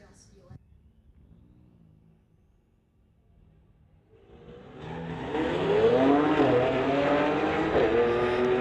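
A 2009 BMW and a 2017 Infiniti do burnouts at a street-legal drag race. The scene starts quiet with a voice, then engines swell into a loud, sustained roar of revving and spinning tires.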